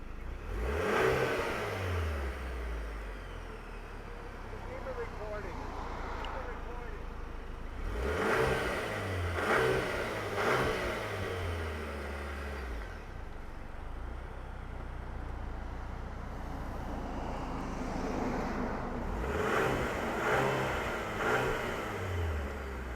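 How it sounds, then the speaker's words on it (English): A 2024 GMC Acadia Denali all-wheel-drive SUV accelerating, its engine revving up through several rising sweeps with gear shifts, then easing off before pulling hard again, heard at moderate distance with road and wind noise. "let's fire this thing up and see this Denali move"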